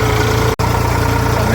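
A tractor engine runs hard and steady nearby, a loud continuous low drone with one brief dropout, while someone talks over it.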